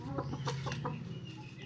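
A broody hen sitting on eggs gives a soft run of low, rapid clucks, close by and faint, over a steady background hum.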